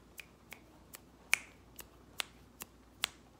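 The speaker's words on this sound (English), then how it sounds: "let's hear the secret Mythbuster snap" A quiet room hushes as someone snaps their fingers, seven crisp, isolated snaps spaced about half a second apart, clear and close against near silence.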